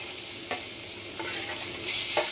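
Garlic paste sizzles and fries in hot oil in a kadhai while being stirred, a loud, continuous close-up hiss with brief scraping surges and no talking.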